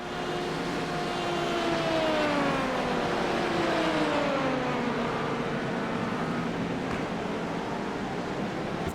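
Number 17 Porsche race car pulling into pit lane during the 24 Hours of Daytona, its engine roaring steadily with a sliding, falling pitch as it passes, over a continuous broadband wash of track noise.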